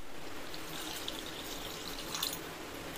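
Water poured into a pressure cooker while cooking chicken and mutton kuzhambu, a soft, steady trickle with a few brief splashes near the end, close and quiet.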